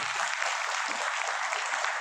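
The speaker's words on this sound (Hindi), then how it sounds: "और एक बार ज़ोरदार तालियां हो जाए फिराद हकीम साहब के लिए" Steady applause from the audience at an association meeting on waqf property, a dense, even patter of clapping that sounds somewhat distant, with no talk over it.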